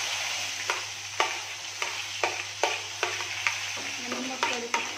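Curry leaves, cumin and asafoetida frying in hot oil, a steady close sizzle broken by regular sharp scrapes of a spoon stirring the pan roughly every half second, with no talking.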